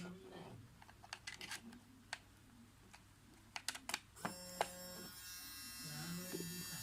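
A repaired YT-10 hair trimmer switches on after some faint clicks and handling, its motor buzzing steadily and close for the last few seconds, with a voice briefly speaking over it.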